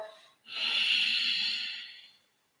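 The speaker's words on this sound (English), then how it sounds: "Nice little ujjayi exhalation. Almost constricting the larynx as if you were forcing the air through a straw." A single long, audible ujjayi exhale during yoga, breathed through a constricted throat into a close, breathy hiss that swells and fades over about two seconds before silence.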